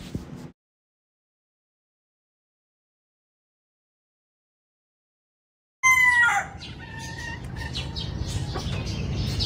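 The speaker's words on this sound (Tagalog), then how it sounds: "At syempre marunong na nga rin maghawak ng manok itong si Lilo." Silence, then a sudden burst of rooster crowing and chicken clucking close by on a farm, followed by steady farmyard background noise.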